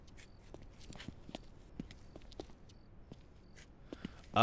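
Footsteps walking up a street in a horror game built in Unreal Engine 5.6, a steady series of soft, evenly spaced steps at moderate distance with faint ambient background and no talking.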